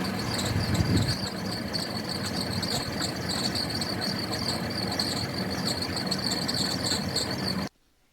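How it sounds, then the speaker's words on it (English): A damaged water pump in a vehicle's engine compartment gives a continuous high, chirping rattle over a steady mechanical drone, holding even for several seconds before cutting off abruptly. "So some very bad sounds coming from the damaged water pump in the engine compartment."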